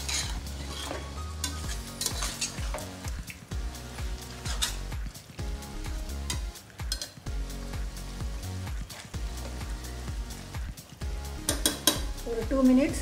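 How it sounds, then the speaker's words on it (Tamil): Chicken and masala stirred in a frying pan, a spoon scraping and clinking against the pan in irregular strokes over a steady sizzle, close and moderately loud. "கிளறி விட்டுடலாம் மசாலாவோட சிக்கன் நல்லா சேரணும்"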